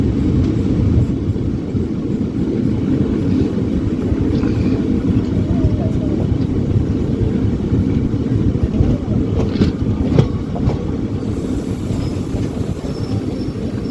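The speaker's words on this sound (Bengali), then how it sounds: "ট্রেন এখন আমাদের চলে এসেছে নিমতিতা স্টেশনের।" Malda-Howrah Intercity Express rolling into Nimtita station, a continuous loud rumble of rail cars with occasional wheel squeals near the end and voices of passengers in the background.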